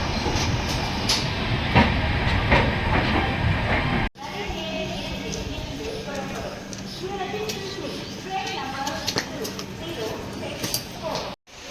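Express train pulling into Coimbatore Junction, a dense rumble of rolling wheels and rail clatter that drops to a quieter station ambience after an abrupt cut, with someone speaking throughout.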